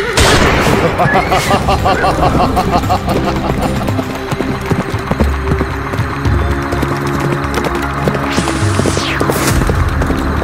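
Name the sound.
cartoon gunfire shooting at robber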